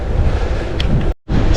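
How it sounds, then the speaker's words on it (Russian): Northwesterly wind buffets the microphone in a loud, rumbling roar on a cycling ride through northern German fields, cut off by a brief moment of silence before resuming. "Северо-западный ветер."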